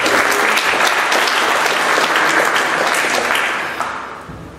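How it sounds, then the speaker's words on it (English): An audience at a security conference talk claps loudly and steadily, the dense applause holding for several seconds before tapering off at the end. "Round of applause, please."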